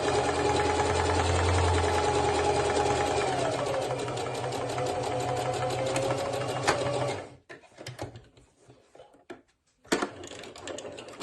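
Sewing machine running steadily for about seven seconds while stitching a half-inch seam through face-mask fabric and interfacing, a dense continuous mechanical whir, then stopping and leaving a few faint handling clicks and bumps.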